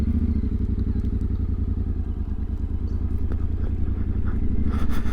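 A Yamaha Tenere 700 adventure motorcycle rumbles loud and close as it rides off, its twin-cylinder engine throbbing in a steady rapid pulse, with some wind and mechanical clatter toward the end.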